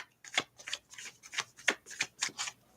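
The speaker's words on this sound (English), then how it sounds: "I'm going to shuffle a different way, so I'm going to go closer." Tarot cards are shuffled close up in a quick run of about nine crisp riffling bursts, each a short papery flutter separated by brief gaps, fairly soft and with no voices.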